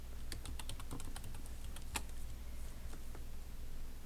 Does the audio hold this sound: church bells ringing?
no